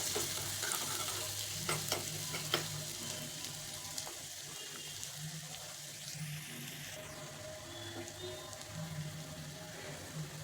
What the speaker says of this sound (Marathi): तर आता हा लसूण जास्त करपू नाही द्यायचा. मस्त झालेला.